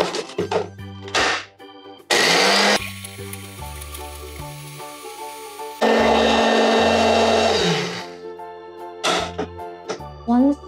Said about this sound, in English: we'll continue grinding the eggshells together